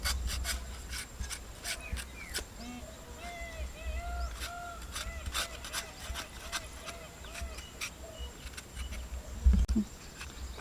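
Steady rhythmic scraping of a peeler or knife taking the skin off a raw vegetable for bajji in a village kitchen, close and soft, with repeated short rasping strokes.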